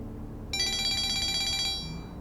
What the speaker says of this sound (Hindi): दुआ का फोन है।